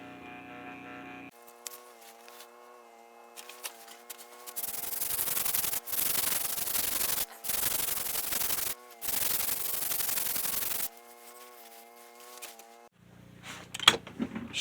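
A Dremel rotary tool driven through a flexible shaft sands a guitar body, whining steadily with a tonal hum, broken by bursts of harsh gritty rubbing and short pauses.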